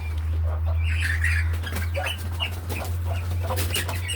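Fayoumi chickens, with a pair of newly hatched chicks, cluck and chirp in scattered bursts over a steady low hum, with occasional wing flaps nearby.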